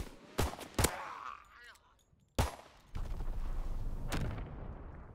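Gunfire in a multiplayer shooter video game: several sharp, loud shots spaced apart, with a sniper shot among them, followed by a steady rumbling battle noise.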